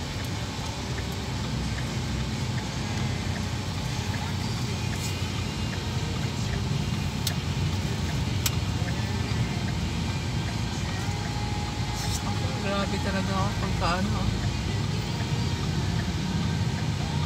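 Road traffic on the way to San Isidro is heard from inside a moving car as a steady, dense rumble and road hiss, with occasional faint clicks and people chatting over it.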